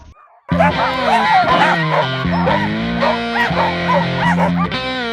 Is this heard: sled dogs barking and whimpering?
yes